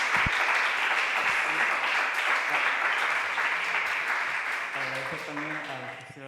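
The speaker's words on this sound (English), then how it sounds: "Please, an applause for them." Sustained audience applause at a panel discussion on LGBTIQ+ cinema at the San Sebastian Festival, steady and dense throughout, thinning near the end as a voice begins speaking over it.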